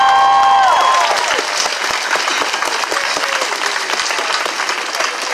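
A crowd at an outdoor march for justice breaks into loud, sustained applause and cheering, dense clapping filling the whole stretch, with faint whistles near the start.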